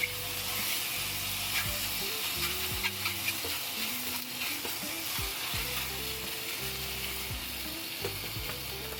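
Beef rice noodle rolls sizzle steadily as they fry in a pan, a continuous near crackle of hot oil with faint scraping or stirring touches.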